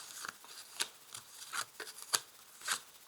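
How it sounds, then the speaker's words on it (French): Tarot cards are slid and placed onto a table in soft papery swishes and light taps at an irregular pace, quiet and close, with no talking. "Alors on va placer les cartes."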